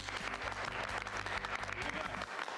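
A crowd of people applauding after a successful surgery and award, dense continuous clapping close and loud throughout, with a voice speaking under it.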